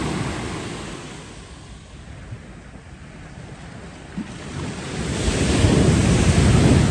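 Ocean surf rolls onto a beach at night, a broad steady wash that swells louder toward the end as a wave breaks, close by with wind rumble on the microphone and no talking.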